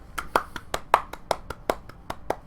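Hand clapping: about a dozen sharp, evenly spaced claps in a quick steady rhythm, close and crisp with brief quiet gaps between each.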